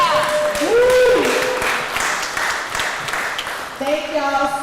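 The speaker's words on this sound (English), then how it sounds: "Okay, Captain, clap it up." An audience at a voter education town hall claps and applauds, with scattered claps under loud cheering and whooping voices, and someone talking at the start.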